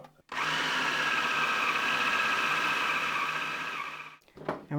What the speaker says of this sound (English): we're going to process it until it forms a ball